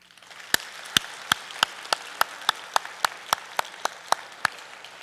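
A church congregation claps in praise during a year-end Sunday service. Crisp claps land in a steady, even beat, about three a second, and fill the room with no voices.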